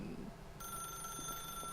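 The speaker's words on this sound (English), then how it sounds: "I don't want to answer the phone." A telephone rings in The Stanley Parable video game, an electronic bell tone starting partway in and holding steady, with a voice speaking faintly earlier.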